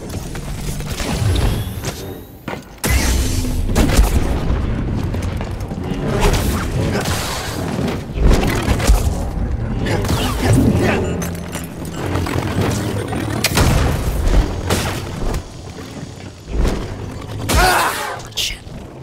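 Repeated flashbang explosions and crashing combat effects in the video game Jedi: Fallen Order, a dense string of bursts, whooshes and impacts with brief pauses, loud throughout.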